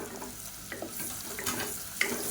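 Crushed garlic hits softened onions frying in a pan for Tamil tomato rice, giving a steady, moderate sizzle with faint stirring scrapes throughout.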